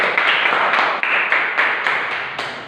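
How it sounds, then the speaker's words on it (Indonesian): Applause for Mbak Wana in a classroom microteaching session on heat, a dense, steady patter of clapping from a group of students, close and lively throughout with no talk over it. "kita beri aplaus untuk Mbak Wana"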